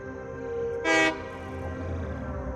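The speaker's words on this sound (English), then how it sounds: "Drive locomotive." A locomotive in the video game Satisfactory gives a short, loud horn blast of about a quarter second over a steady engine hum, with no talking.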